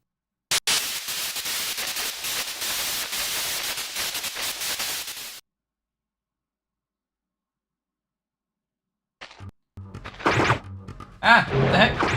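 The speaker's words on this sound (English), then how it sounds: "White noise on the screen will signal the start of battle." Loud hissing white-noise static in the .Hack//Outbreak video game marks the start of a battle, lasting about five seconds before cutting to silence, followed by thuds and brief voices.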